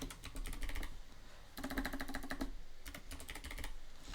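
Fast keystrokes on an Artesian Builds custom keyboard come in three quick bursts of clicking, each separated by short pauses, quiet and close over a low steady room hum.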